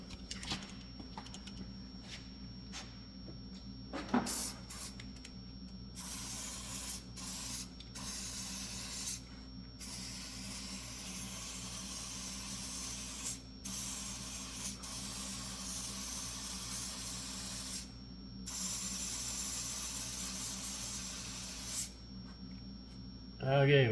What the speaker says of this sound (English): So on cylinder 1, we're going to use the CRC intake valve and turbo cleaner.